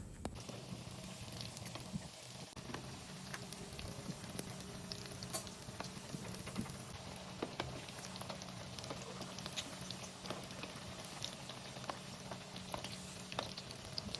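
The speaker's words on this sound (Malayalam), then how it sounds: "കട്ട്ലേറ്റ് ഓരോന്നായിട്ട് ഞാൻ ഫ്രൈ ചെയ്ത് ഇതുപോലെ വെച്ച് കൊടുക്കുന്നുണ്ട്" Egg cutlets deep-frying in hot oil for an iftar snack, a steady, dense sizzle and crackle with scattered pops running throughout at moderate level, no voices.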